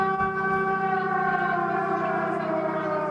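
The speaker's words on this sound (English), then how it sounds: "The sound of air raid sirens this morning" Air raid sirens sounding over Lviv, Ukraine: a steady, droning wail holding one pitch throughout, loud and continuous with faint background noise.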